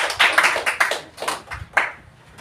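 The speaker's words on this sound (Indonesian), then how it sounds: "Kita berikan tepuk tangan untuk kelompok 2." An audience claps for a presenting group in a classroom, a short burst of scattered, uneven handclaps that fades after a couple of seconds.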